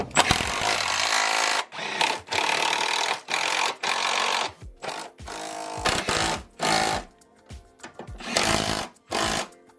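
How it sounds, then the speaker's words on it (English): Power tool tightening Subaru Crosstrek lift kit hardware with a 13mm socket, loud buzzing bursts of varying length separated by short gaps, close and without talk. "Now go ahead and tighten up all your hardware with a 13mm socket."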